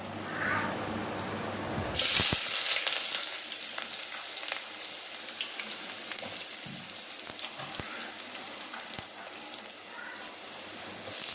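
Onions frying in a pan for country chicken curry, a loud burst of sizzle as they hit the oil, then a steady crackling fry with occasional stirring taps.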